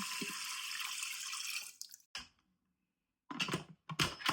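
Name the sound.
pouring two cups of water onto buckwheat in Instant Pot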